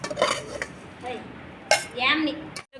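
Vermicelli fries in a pan for semiya sago payasam and is scooped out, with metal spoon scrapes and clinks against cookware, a soft sizzle underneath and a sharp clatter near the end, up close and fairly quiet.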